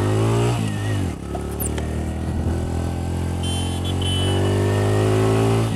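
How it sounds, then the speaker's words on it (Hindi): A TVS Radeon motorcycle with disc brake starts riding off: a close single-cylinder engine and exhaust thrum, dipping as it shifts, then rising steadily in revs as the bike pulls away. "जब आप इस बाइक की आवाज़ या एग्जॉस्ट नोट यहाँ पर सुनोगे"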